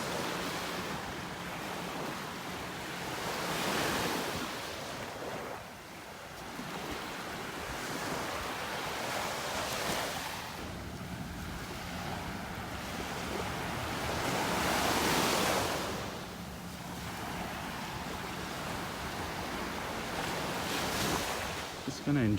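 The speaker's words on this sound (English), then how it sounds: "Enjoy the sounds of the wind, the waves." Gulf waves roll onto a beach in North Naples, Florida, at sunrise, a steady wash of surf rising and falling in slow surges while wind rumbles across the microphone.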